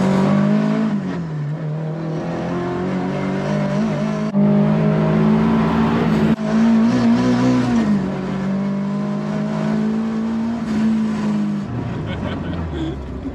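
A Group B rally car engine heard from inside the cabin, a loud, continuous droning roar that shifts pitch as the revs change, with voices talking over it.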